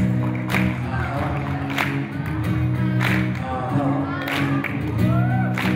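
An audience claps along in rhythm to a repeated sung chant, with sharp regular beats over steady music and voices.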